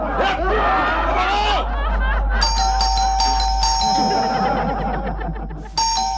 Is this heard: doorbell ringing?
yes